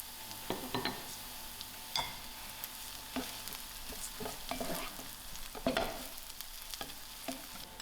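Onions, garlic and spring onion stems frying on high heat in a pan, a soft steady sizzle broken by frequent stirring clinks and scrapes, quiet and close with no talking.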